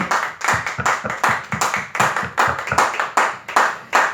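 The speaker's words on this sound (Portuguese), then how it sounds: "As palmas louve ao Senhor." A church congregation claps in praise after a sermon, loud rhythmic clapping in a steady beat of about two claps per second, close and unaccompanied by talk.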